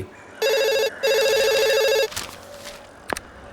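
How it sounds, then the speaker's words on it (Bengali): A telephone ringing indoors, two bursts of an electronic ring with a short gap between them, followed by quiet room noise and a brief knock. "ফোন বাজছে"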